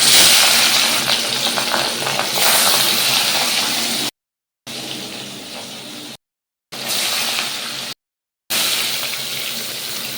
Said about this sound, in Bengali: চলো এবার মাছগুলোকে ভেজে নিই ঝটপট করে।